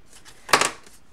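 A pair of scissors snips washi tape on a handmade card, one short crisp cut close up against a quiet room.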